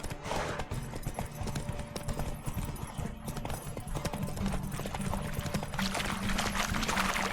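Roach, Geralt's horse in The Witcher 3, gallops with rapid, steady hoofbeats, close and continuous throughout, over a bed of ambient game sound with a faint whinny-like tone.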